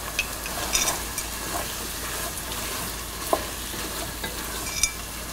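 Cooked potatoes being stirred with salt in a hot pan for aloo gobi, a continuous soft sizzle under irregular scraping strokes and a couple of sharp clinks.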